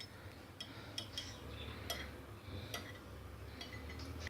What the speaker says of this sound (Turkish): bir yumurtanın akını ilave ediyoruz. Çatalla şöyle karıştırıyoruz.